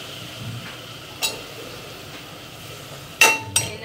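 Eggplant pieces drop into a steel sambar pot with a few sharp metallic clinks and knocks, two close together near the end, over a quiet kitchen background.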